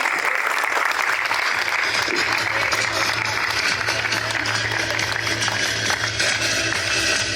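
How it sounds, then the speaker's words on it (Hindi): A large crowd gives loud, sustained applause at an employee award ceremony during a pool party event, a thick, even roar of clapping that holds steady from start to finish. "एक बार जोरदार उनके लिए तालियां बजाएं।"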